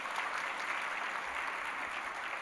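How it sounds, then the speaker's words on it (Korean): A church congregation applauds together during a Sunday worship service, a steady, dense wash of clapping that holds evenly from start to finish without any voices over it. "예, 박수로 한번 격려하겠습니다."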